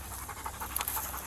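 A police dog pants close by in quick, steady breaths, a rhythmic run of short huffs with a faint background hum and no talking.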